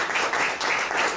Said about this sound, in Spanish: Démosle ese aplauso a nuestro Dios en gratitud al Señor